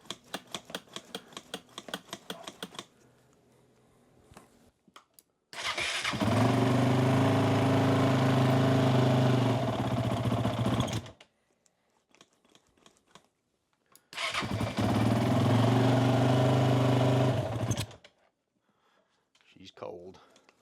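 A 2015 Honda CRF450X dirt bike engine cranks and fires, running as a steady, loud idle for several seconds before cutting out, then restarting for another stretch of even running, with quiet clicks and pauses between.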